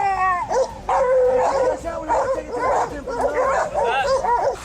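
Hunting dogs bay and bark in a loud, overlapping chorus at a cornered wild pig in swampy terrain, with yips and whimpering howls mixed into the continuous racket.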